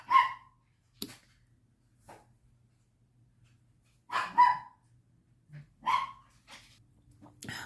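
A dog gives scattered barks and yips at irregular intervals, some in quick pairs, with near silence between them.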